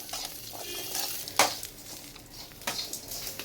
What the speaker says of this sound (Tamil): இந்த தேங்காய் கருவேப்பிலை உப்பு புளி போட்டு என்ன செய்யணும்னா நல்லா வறுத்தெடுக்கணும்